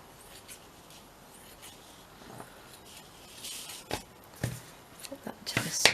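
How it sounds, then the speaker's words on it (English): Scissors cutting a section off a piece of red-onion-dyed fabric, quiet scattered snips that grow louder and more frequent toward the end over a soft background hiss. "Let's just cut a section of this off."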